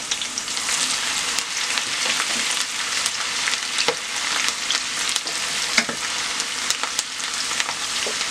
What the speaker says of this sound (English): So as soon as it gets hot, put your fresh onion in there.